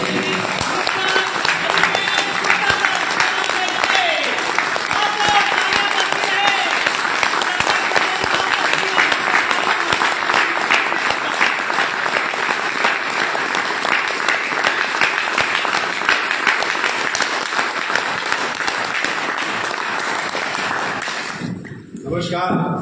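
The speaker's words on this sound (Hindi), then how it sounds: "मैं बुलाना चाहूंगा आप सब लोग जोरदार तालियों के साथ" An audience bursts into strong, sustained applause to welcome a speaker at a business presentation, dense clapping continuing evenly for over twenty seconds before tapering off at the end.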